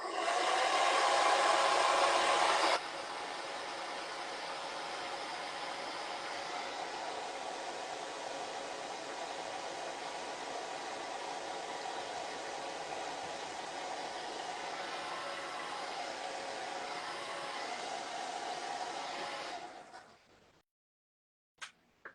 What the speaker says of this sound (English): little magic called hair dryer.